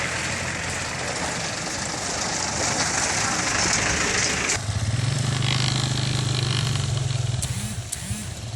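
A motorcycle rides along a badly damaged road stretching for kilometres between villages, its engine droning steadily with rough rumbling and a deeper tone shift partway through, as voices talk over it.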